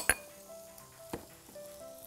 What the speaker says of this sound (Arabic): هحط معاها بصله مبشوره ناعم او خشن مش لازم ناعم قوي